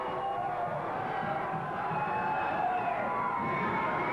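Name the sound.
wrestling crowd cheering at Empire Pro Wrestling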